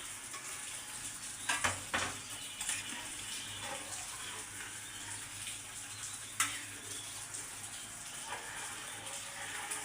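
Beef pieces frying in a pan for a potato and beef dish, a continuous soft sizzle with a few sharper clinks and stirring knocks scattered through.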